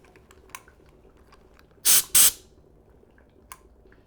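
Helium gas hisses into a beer keg in two short, loud back-to-back bursts, each a second or less, with near silence and a few faint clicks around them.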